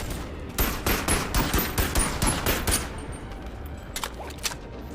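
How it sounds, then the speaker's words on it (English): Rapid bursts of automatic gunfire from a green-laser turret in the VR game Bone Lab, a dense volley of loud repeated shots for about two seconds, then sparser cracks and fading echoes. "So the green laser, you don't want to get in its sights because it's a turret and you can't really shoot it."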